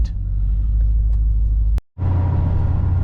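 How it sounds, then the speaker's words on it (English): A 1982 Chevrolet C10 pickup truck drives along with a steady, loud low engine rumble and road noise, cut by a brief near-silent gap before the drone resumes at full strength. "We are in the car in hot pursuit."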